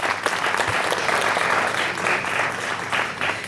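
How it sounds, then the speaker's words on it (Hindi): Loud, steady applause from an audience at a district-level school talent search event, a continuous wash of many hands clapping for the principal with no voices on top. "प्रिंसिपल सर के लिए एक बार फिर से ज़ोरदार तालियां हो जाएं"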